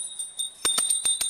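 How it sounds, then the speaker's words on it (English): A small hand bell rung during a puja offering, several bright metallic strikes in an uneven rhythm with a sustained ringing tone between them, close and clear with no talk. "please ring the bell as you do so"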